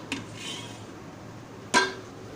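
Pressure cooker vessel set down on a metal steaming rack, two short metallic clanks about a second and a half apart, close and fairly loud against a quiet kitchen background.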